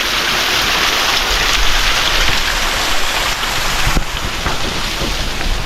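Water roars down a mountain waterfall in a steady, dense wash of noise, close and loud, with no pauses from start to end.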